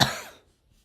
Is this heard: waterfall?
no